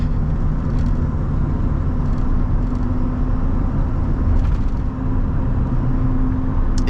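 A 1999 Chevy Silverado Z-71 regular cab rolls along at about 25 mph, putting out a steady broadband tire roar with a low engine hum underneath. The noise is continuous and moderately loud, with brief bumps from potholes and road patches.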